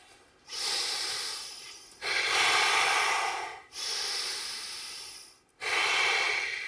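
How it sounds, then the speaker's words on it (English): Two long, deep breaths close to the microphone during a Five Tibetans yoga exercise, each a slow hissing inhale or exhale, in a quiet room with short pauses between them. "And then back up for 2 deep breaths."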